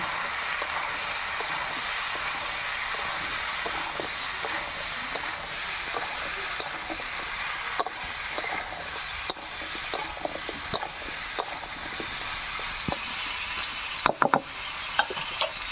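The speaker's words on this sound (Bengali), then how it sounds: "পরিমাণ মতো হলুদ দিয়ে দেবো দিয়ে সবজিটা আমি ভালো করে কষে নেব" Mixed vegetables with salt and turmeric hiss steadily as they are stir-fried in a pan, with occasional knocks and scrapes of a spatula under a constant sizzle and faint background voices.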